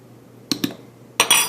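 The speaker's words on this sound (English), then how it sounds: "to make sure that our dry measurements are accurate, I'm going to spoon in my flour" A spoon scoops flour into a measuring cup for soft pretzel dough, giving two quick clinks of utensil on cup followed by a brighter pair of scraping, clattering knocks, close and clear against a quiet room.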